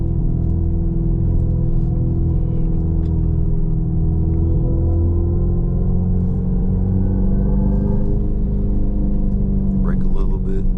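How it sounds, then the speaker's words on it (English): A simulated engine note plays inside the cabin of a 2026 Dodge Charger Scatpack EV sedan while driving: a steady, loud droning rumble that swells slightly near the end, with a voice talking over it. "they make it seem like there is an engine in here"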